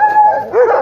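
A big dog barks once on a walk in a hillside park in Duluth, a single close, loud, slightly drawn-out bark.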